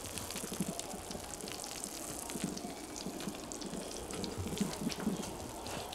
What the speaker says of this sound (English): you can hear it bubbling